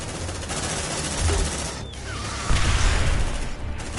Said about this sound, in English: fire off some grenades like this